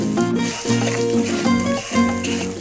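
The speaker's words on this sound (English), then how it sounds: "Then I'm going to add in the rice and the onion and just stir it all around." Rice and onion sizzle in olive oil in a skillet, a steady loud frying hiss with faint tonal hum and periodic swells as the mixture is stirred, no talking.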